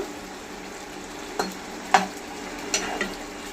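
A spoon stirs dhaba-style chicken masala in a hot pan, with a few distinct scraping strokes over a steady background sizzle and no voices.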